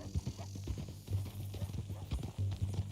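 Horse hooves clip-clop in Red Dead Redemption 2, a steady rhythmic plodding at moderate distance under a low droning hum, with faint voices in the background.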